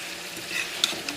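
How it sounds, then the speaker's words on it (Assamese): Local chicken meat cooks in a pan with a soft, steady sizzle and a few faint stirring clicks, heard briefly and alone with no voices. "দালি পিছত এইফালে মই মাংস বহাই দিছোঁ"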